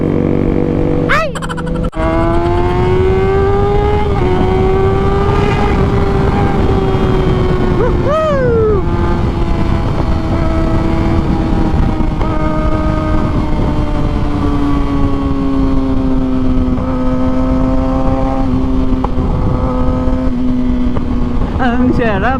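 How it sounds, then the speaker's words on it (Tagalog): A motorcycle hums steadily along a soaked road, its engine note holding a constant pitch with slight rises and dips, loud and close with rushing wind and road noise throughout. "Ang sarap magmotor."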